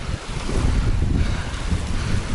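Strong wind buffets the microphone over a continuous roar of waves and rushing water on a lakeshore during fishing, loud and unbroken throughout.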